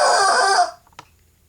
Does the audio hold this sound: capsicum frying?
no